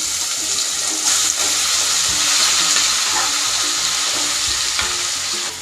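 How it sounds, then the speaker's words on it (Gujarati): Stuffed masala okra hits hot tempering in a pan and sizzles loudly and steadily, a dense crackling frying hiss that holds throughout, with some stirring clatter and no voices. "વઘાર થઈ ગયો છે. હવે આપણે મસાલા ભીંડી એડ કરી દઈશું."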